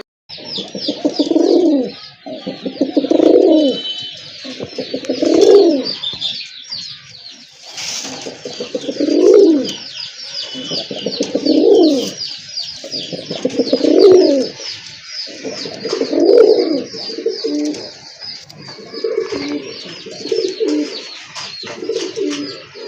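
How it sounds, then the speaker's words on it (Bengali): Native pigeons for sale coo in a steady series of low, throaty calls about every two seconds, close by, with faint chirping and twittering in the background. "আরেক পেয়ার কবুতর দেখতে পাচ্ছেন"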